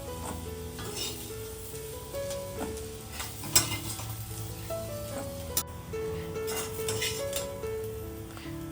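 Whole coriander, poppy and sesame seeds roasting in a hot kadai, giving a steady dry crackle and sizzle with stirring scrapes and a few sharp clinks, close and continuous with no talking.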